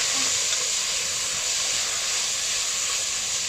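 Beef salona ingredients brown in a pan with a loud, continuous sizzle and hiss, steady and unbroken from start to finish.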